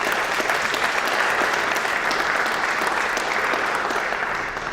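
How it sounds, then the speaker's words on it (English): A civic audience at a mayor's State of the City address breaks into a full round of applause, loud and sustained, holding steady before easing slightly at the end. "Give yourselves a big round of applause."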